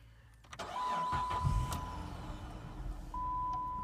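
A Dodge Charger 3.5 engine cranks and fires, then settles into a steady idle close by, with a thin warning chime tone sounding over the running engine.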